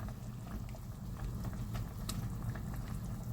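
A pot of vegetable soup with okra simmering on the stove, giving a steady low bubbling and burbling with faint scattered pops, close and continuous throughout with no talking.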